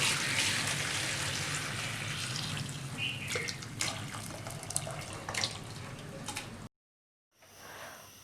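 Chicken broth (yakhni) poured through a strainer for a vegetable chicken soup gives a steady close splashing trickle with a few clinks, then stops abruptly into brief silence.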